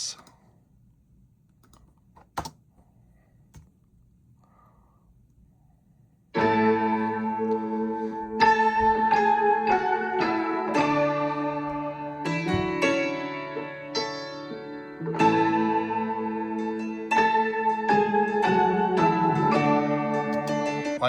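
Layered keyboard synth parts for a song, drifting and panned hard left and right: a few seconds of near silence with faint clicks, then full, sustained chords and melodic notes playing steadily.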